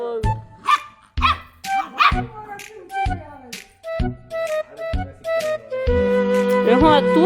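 A dog barks repeatedly in sharp, loud bursts spaced roughly a second apart, joined by yips and whines, with other dogs or puppies overlapping toward the end.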